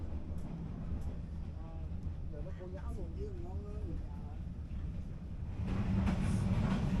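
A night train in Vietnam rumbles steadily with a low continuous roll, growing louder and rougher near the end, while faint voices are heard under the noise.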